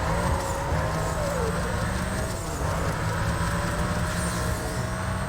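A Porsche races in Need for Speed Most Wanted, its engine note a steady, loud, continuous drone that holds throughout with slight pitch shifts.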